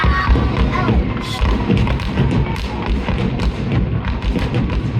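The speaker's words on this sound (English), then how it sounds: "it was nice just to sit back and watch the fireworks from our balcony view" Fireworks exploding in a dense, continuous barrage, watched from a balcony, with loud overlapping thumps and bangs throughout and faint crowd noise mixed in.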